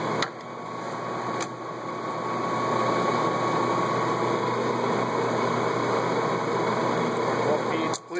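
A Jones & Lamson turret lathe spindle keeps turning after being slowed down, giving a steady, close mechanical hum with a high whine that holds evenly for the whole stretch.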